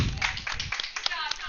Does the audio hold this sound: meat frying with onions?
no